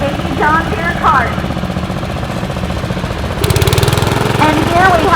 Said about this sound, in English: This is a John Deere 112 lawnmower owned by Dustin Almany from Upper Cove, Mary